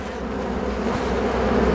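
Honey bees swarm around an opened hive during a warm-weather inspection, a dense, steady buzzing hum close by that fills the whole moment with no talk.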